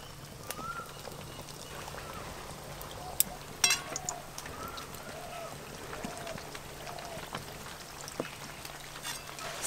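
Kachori fry in deep, gently warmed oil with a steady soft sizzle and crackle, faint and continuous, with a few brighter pops.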